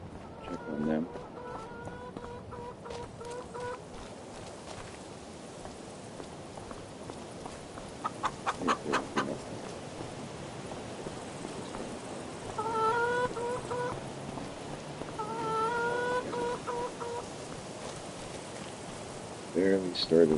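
Chickens cluck in short repeated bursts on a farm in the video game Farming Simulator 25, moderately close over a steady background hiss, with pauses between the groups of clucks and someone talking at times.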